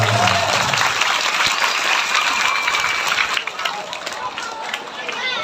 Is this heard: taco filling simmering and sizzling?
no